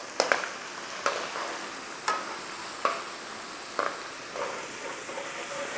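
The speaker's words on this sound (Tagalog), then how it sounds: "Iprito lang natin to sandali hanggang sa mag-brown lang ng konti." Potatoes frying in oil in a pan for chicken afritada, a steady low sizzle broken by several sharp crackles and pops spaced about a second apart, close and fairly quiet, no voices.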